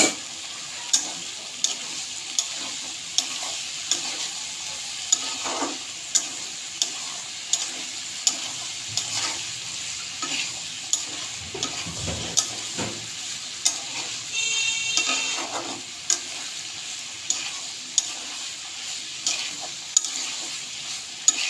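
Boiled chickpeas and soybean chunks stirred in a pan, with a spoon scraping and knocking at a steady rhythm over a soft sizzle, close and alone.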